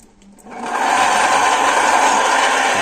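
The electric motor of a homemade log splitter spins up over about half a second, then settles into a loud, steady whirring hum close by, with no talking.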